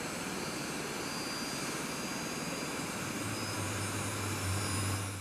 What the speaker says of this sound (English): the pilots power the aircraft, review displays, check radios, and start the engines